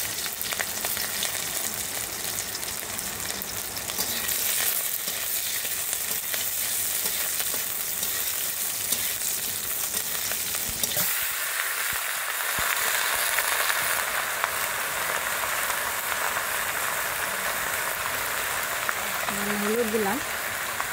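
Onion and green chili frying in sauce in a pan at a village kitchen, a steady loud sizzle with occasional stirring, the crackle dropping briefly midway before surging again, with a voice talking over it.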